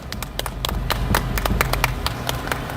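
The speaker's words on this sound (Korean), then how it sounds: "여러분 아무 힘차게 뜨거운 박수 부탁드리겠습니다" An audience at an outdoor political rally claps steadily in a lively round of applause, many hands patting at once, fairly close and sustained throughout.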